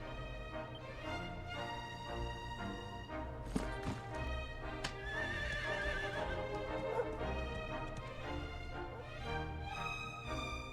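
A horse whinnies in the video game Dragon Quest XI over steady background music, with clip-clopping hooves and a brief tap partway through.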